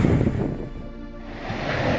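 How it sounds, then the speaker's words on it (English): Tsunami waves rush ashore on Tonga's main island, Tongatapu, flooding streets and homes: a loud, continuous roar of churning water with gusty wind noise that dips briefly mid-way and then swells again. "The water rushing ashore into homes."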